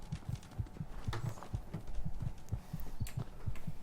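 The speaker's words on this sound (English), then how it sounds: "Why is my heart pounding?" Pounding heartbeat in the survival-mode video game Fallout 4, a steady, rapid thumping of low double beats repeating evenly throughout, loud and close, with no talking.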